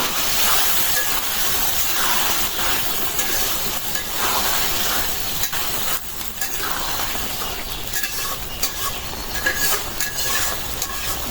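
Steady, loud sizzling of fish frying in a hot pan, with crackling bursts and stirring scrapes throughout, no voices.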